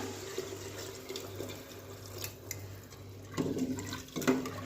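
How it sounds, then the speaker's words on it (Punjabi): Hot water is poured into a potato and pea curry in a pot, a steady splashing trickle under a constant background hum, swelling louder in two bursts near the end. "ਇੱਥੇ ਮੈਂ ਇਹਦੇ ਵਿੱਚ ਪਾਉਂਗੀ ਗਰਮ ਪਾਣੀ"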